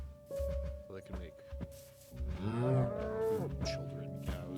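Cows mooing in the video game Minecraft, several drawn-out low moos rising and falling close by, with a person speaking over and between them.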